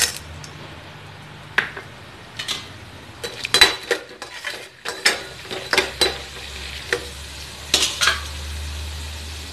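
Chana dal fries in hot oil in a kadai, a low sizzle punctuated by sharp metallic clinks and scrapes of a spoon against the pan, coming in irregular clusters close by.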